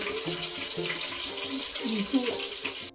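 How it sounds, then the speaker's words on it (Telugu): Water runs steadily and pours into a cooking pot, a continuous splashing stream with a faint rising gurgle as it fills. "గ్లాస్కి గ్లాసున్నర వాటర్ కింద వేసుకుంటాను"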